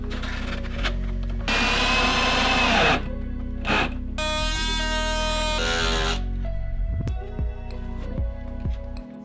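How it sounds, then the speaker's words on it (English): A power drill drives trim head screws into cabinets during a basement bar cabinet install, with whining bursts of the motor rising in pitch, short buzzy pulses between them and a steady hum underneath, close and loud. "as I screw these in, I'm gonna make sure that I'm using trim head screws anywhere that I think is quite visible"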